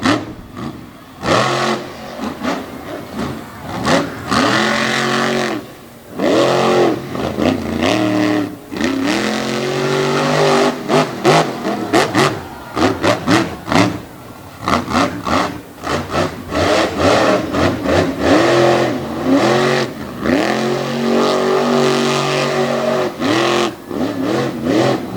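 Racing trucks roar and rev around a TN/GA state line race track at an all-star homecoming night, engine notes rising and falling in loud, dense overlapping passes throughout.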